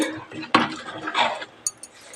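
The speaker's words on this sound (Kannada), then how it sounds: "ಮೀನು ಹಾಕಿದ್ಮೇಲೆ ಒಂದ್ಸಲಿ ಮಿಕ್ಸ್ ಮಾಡಬೇಕು ಅಷ್ಟೇ" A pot of jilebi fish curry is stirred once after the fish goes in: a quick scrape and clunk of a utensil against the pot, followed by a few small metallic clinks, close and brief.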